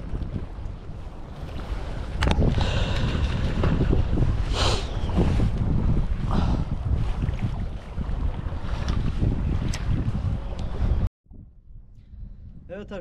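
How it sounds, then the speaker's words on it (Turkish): Strong gusting wind at sea buffets the microphone over a fishing boat's steady rumble and sloshing water, loud and continuous, then cuts abruptly near the end. "Aşırı rüzgar başladı."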